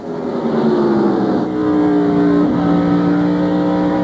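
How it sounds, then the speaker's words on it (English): Loud, steady roar of powerful stock car engines passing during the 2000 GoRacing.com 500 race, with whining tones that shift in pitch as they go by. "As you see Rusty Wallace and Jeff Gordon go by"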